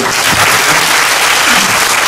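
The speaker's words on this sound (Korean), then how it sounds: "장시간 강의를 수고해 주신 교수님께 다시 한 번 박수" An audience at a parents' seminar applauds a professor after a long lecture, a loud, continuous roar of many people clapping together, close and even for the whole stretch.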